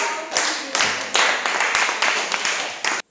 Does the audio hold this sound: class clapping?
yes